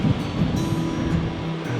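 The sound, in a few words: ocean waves crashing against sea cliff rocks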